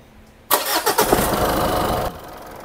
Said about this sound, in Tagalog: Sa unang start pa lang, pumalag yung makina, tapos may tumunog.